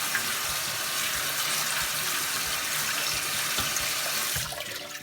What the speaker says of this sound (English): And we're just going to rinse them off.